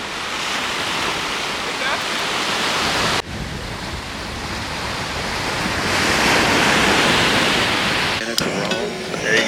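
A JetBoil camping stove burner roars steadily and loudly close by at a beach campsite on Catalina Island, a continuous rushing hiss that briefly dips near three seconds and then swells again.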